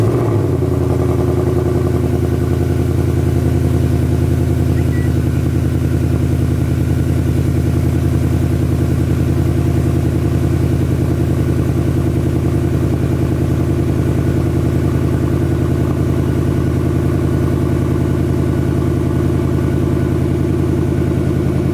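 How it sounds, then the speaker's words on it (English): A Ford Mustang running on E85 starts cold with a brief crank and catch, then settles into a steady, loud, deep idle that drones on evenly and close by with no voices. "you're going to get an E85 cold start on the Mustang"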